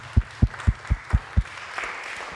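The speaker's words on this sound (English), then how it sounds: "Let's give the Lord a clap offering." A few claps given as an offering at a church service: six evenly spaced, fairly close slaps in a steady rhythm, then a soft wash of room noise as they stop.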